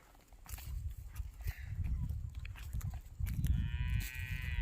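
Deep lowing from Khillar bulls over shuffling hooves and farmyard bustle, with a loud nearby moo toward the end.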